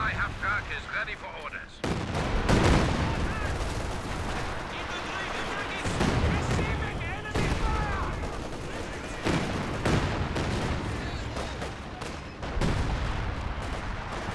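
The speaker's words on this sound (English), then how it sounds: "now the howitzer's going off" Howitzer artillery booming in the World War II strategy game Company of Heroes 2, with repeated heavy reports and scattered gunfire rolling through the battle at moderate loudness over constant combat noise.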